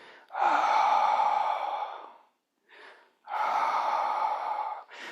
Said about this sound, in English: So maybe just add the exhale.